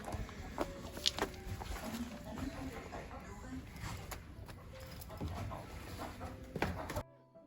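Chickens clucking inside a backyard coop during egg collection, with scattered clucks and rustling through the clip while people talk nearby.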